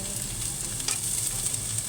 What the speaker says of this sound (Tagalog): Medyo ipa-fry ko lang siya